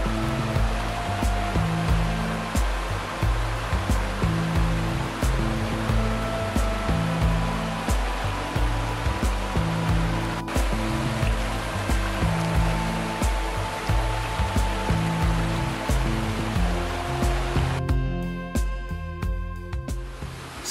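Cachoeira do Funil, a large waterfall, pours in a steady, loud, broadband roar that stays continuous for the whole stretch with no voices.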